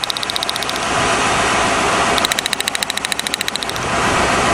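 A 1997 Lincoln Continental engine idles close by with one cylinder misfiring, a steady rumble broken by rapid, regular ticking pulses that fade briefly and then return strongly. No one speaks.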